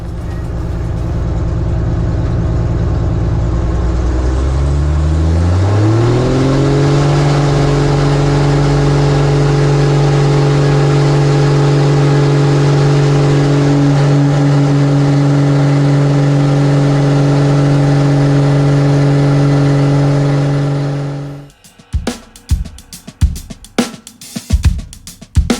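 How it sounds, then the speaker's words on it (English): A loud, close Lycoming-based modified aircraft engine roars and rises in pitch as it revs up for takeoff, holding a steady drone before cutting off into scattered knocks and clicks. "listen to the roar of that Lycon modified engine as"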